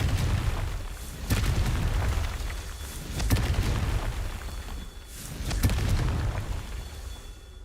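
Repeated booming blasts from the Confringo fire spell in Hogwarts Legacy, several loud bursts rising over a steady rumbling game soundscape with no talking.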